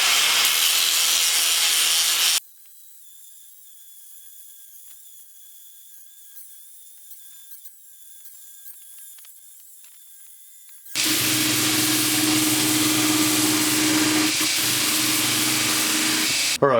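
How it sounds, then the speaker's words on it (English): A surface grinder works a Damascus steel billet to remove cracks, a loud close harsh grinding hiss that cuts out into quiet with faint whine, then resumes just as loud. "I'm going to go ahead and grind off this whole thing, make sure it's super clean"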